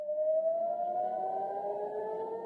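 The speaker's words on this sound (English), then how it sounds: "Sirens were sounding again in Jerusalem." Air raid sirens wailing over Jerusalem, a steady sustained tone rising slowly in pitch, heard alone at moderate distance.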